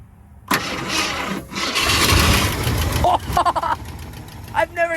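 Old Ford 390 V8, left sitting for almost 20 years, cranks and catches in a converted greenhouse vehicle, then settles into a rough, loud idle nearby with brief revs, while people talk over it.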